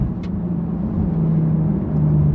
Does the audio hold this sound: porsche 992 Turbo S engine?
yes